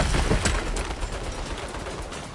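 Rapid turret gunfire in the video game Saints Row, a dense, loud burst of automatic shots that blurs into continuous noise with a sharp crack near the start, and no talk.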